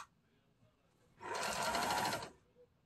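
A Singer 875 sewing machine with a feed problem runs in one steady burst of about a second, a fast even needle chatter, close and loud against an otherwise quiet room.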